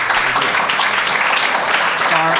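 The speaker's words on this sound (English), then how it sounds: "let's give Tim a round of applause" Audience applause for a speaker at a talk on mental health parity, a loud close wash of clapping mixed with some voices over a couple of seconds.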